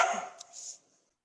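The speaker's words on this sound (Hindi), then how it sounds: "अरे इधर कुत्ते भौंक रहे हैं यार।" One short dog bark sounds in the background and fades quickly, faint and a little distant.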